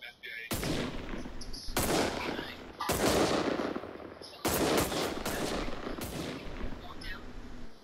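Gunfire in the CRSED video game, several loud bursts of automatic fire separated by short pauses, with the shots ringing out across an open map.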